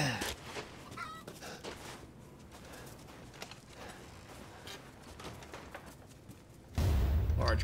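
Chickens honk and cluck in the game Resident Evil Village, faint and scattered over low ambient rumble, ending in a sudden loud low burst.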